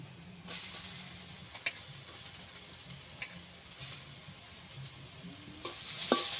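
Potatoes hit a pan of fried ginger, garlic and onion, a soft steady sizzle with a few sharp clicks and taps of a utensil, close and fairly quiet, with no talking.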